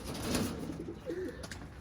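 Pigeons softly cooing in a loft, a few low murmuring coos over a quiet, slightly noisy background.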